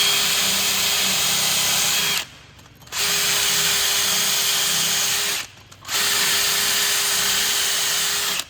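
A power tool whirs steadily while cleaning rust off the rear brake hub of a 2005-2016 Honda CR-V, running in three long bursts separated by two short pauses, close and loud with no talking.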